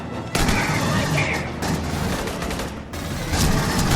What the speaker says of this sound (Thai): ยิง ยิงต้านมันไว้